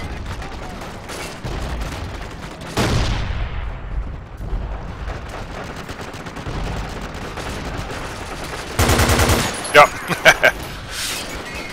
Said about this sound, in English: Actually, maybe I should put this on rock and roll and shoot really fast.